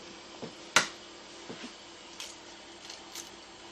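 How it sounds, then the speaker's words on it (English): An egg cracked into a bowl while making buffalo chicken lasagna: a single sharp, close crack followed by a few faint clicks and soft squishy sounds in a quiet kitchen. "And then you're going to add 1 egg."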